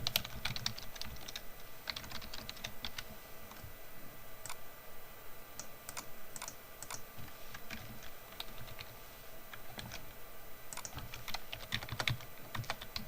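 Typing on a computer keyboard, with a steady run of quick, light key clicks and occasional louder taps, close and fairly quiet, with no voices.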